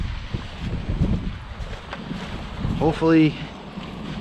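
Breeze buffeting a microphone by the water at a minnow trap site, rumbling gusts throughout with a person briefly speaking near the end.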